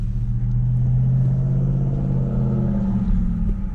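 A Pontiac G8 GT's engine rumbles low and steady as the car rolls into a shop, a deep close idle with slight swells and no talk over it.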